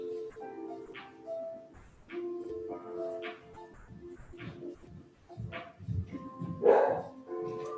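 A dog indoors gives a run of short barks and yips at a moderate distance, irregularly spaced and ending in one louder, sharper bark.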